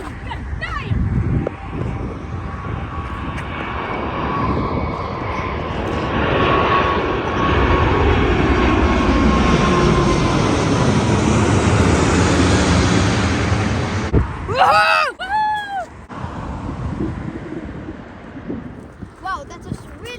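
An Airbus A380 passenger airliner climbs out overhead at Copenhagen Airport, its loud jet roar swelling and sustained for most of the stretch before thinning out, with wind buffeting the microphone and a voice calling out near the end.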